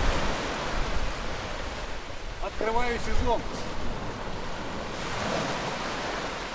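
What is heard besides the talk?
Black Sea waves at the beach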